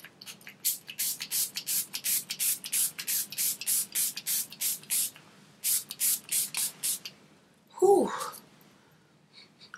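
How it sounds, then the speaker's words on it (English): A Milani Make It Last setting spray mist is pumped in a long run of about twenty rapid, evenly spaced hissing spritzes, loud and close, followed by a brief voice and a short pause. "The Make It Last Setting Spray by Milani."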